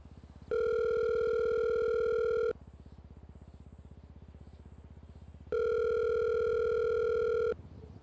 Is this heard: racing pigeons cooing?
no